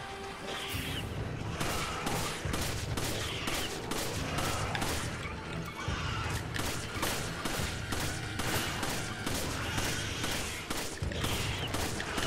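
Dense, continuous gunfire from Resident Evil 5, rapid shots aimed at a creature's tail, steady loud volleys with booming impacts throughout, no voices.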